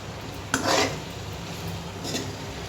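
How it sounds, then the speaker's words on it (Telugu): Pasta is stirred in a cooking pan with a utensil, giving two scraping, clattering bursts a moment apart over faint background noise. "పాస్తా వేసి జాగ్రత్తగా కలుపుకోవాలి"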